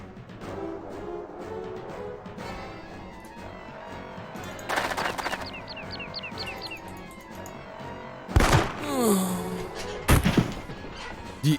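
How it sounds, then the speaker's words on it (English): Burst fire from a gun in Jagged Alliance 2, sharp close bursts landing a few seconds apart among clattering combat sounds and smashes, with loud impacts standing out near the end. "Get ready for burst fire, my friend."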